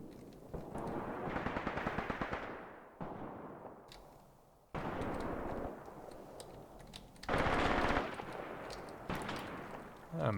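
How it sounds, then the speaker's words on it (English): Machine gun fire in the wartime tactics game Graviteam Tactics, with sustained bursts and heavy rattling volleys cut between several segments over rumbling battle ambience and distant explosions. "A machine gun has been set up."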